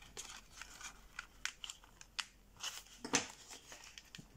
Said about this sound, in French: on récupère la ligne de pli pour former un pli montagne